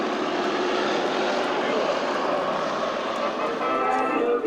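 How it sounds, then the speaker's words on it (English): WWII-era B-17, B-24 and B-29 bombers flying over at an air show in Cleveland, a loud, steady broadband roar of piston propeller engines filling the whole stretch, with a voice talking over it. "Will you give these airplanes your civilian salute"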